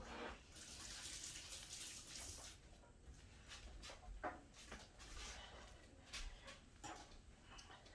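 Kitchen tap runs water into a cup while pierogi dough is prepared, a steady close splashing hiss lasting throughout with small knocks and clinks mixed in.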